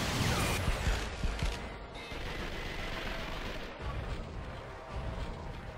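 Heavy gunfire rattles almost continuously in the Vanquish video game, with dense bursts and booming blasts in a loud battle din and no talk.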